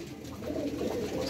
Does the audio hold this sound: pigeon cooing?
yes